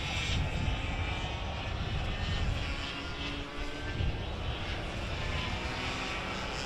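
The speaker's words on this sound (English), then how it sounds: "Last time across for Campbell Thompson in the 51 KF kart up the Perth Metal Recyclers Hill for the second to final time." A KF racing kart engine climbing a hill on a Perth circuit during a city titles race meeting, a loud continuous buzzing engine drone held steady and close for the whole stretch, with no voices.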